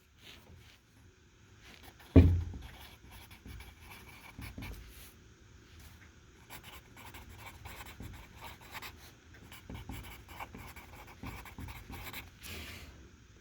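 Pen or pencil writing a number by hand on paper during a rounding lesson, a sharp tap at the start followed by soft, continuous scratching strokes, close and quiet, with no talking.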